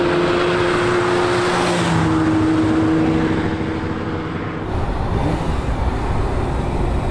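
A Ferrari 365 GTB/4 Daytona Spider drives on the road, its engine a steady loud drone with a shifting tone and heavy rushing wind noise, with no talking over it.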